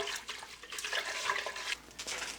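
A brine of pink salt, kosher salt and brown sugar is stirred in water, giving soft sloshing and swirling liquid sounds, close and continuous, with no voices.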